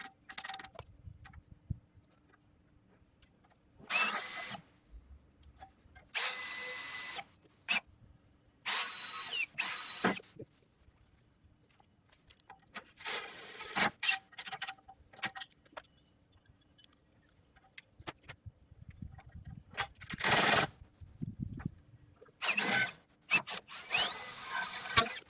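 A power drill bores and drives screws into thick steel sheeting on a factory wall, heard as several loud, close whirring bursts of a few seconds each, separated by quiet gaps with faint handling clatter.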